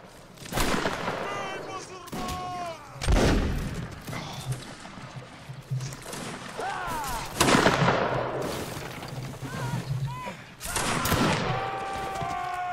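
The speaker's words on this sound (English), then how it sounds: "Trying to shoot this guy with the cannon." Musket volleys and cannon blasts from Mount and Blade Warband Napoleonic Wars, a battle game, crack and boom repeatedly in irregular bursts, some sharp and near, others heavier and rolling. Players talk over the gunfire throughout.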